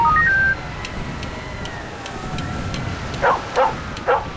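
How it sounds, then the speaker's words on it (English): A seeing eye dog in the Halo 3: ODST audio log barks three times in quick succession near the end, following faint electronic beeps and a steady background hum. "Cane tapping, seeing eye dog."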